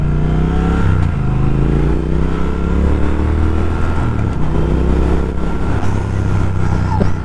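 A 2019 Triumph Speed Twin motorcycle's engine accelerates hard through the gears, loud and close, revs climbing then dropping at each shift, with wind rush over the steady engine roar.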